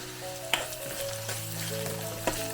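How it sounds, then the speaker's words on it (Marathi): Onion fries in a pan for a quick potato sabzi, a close, constant sizzle broken by a couple of sharp stirring clicks, with faint background music tones beneath. "कांदा जो आहे तो आता चांगला फ्राय झाला"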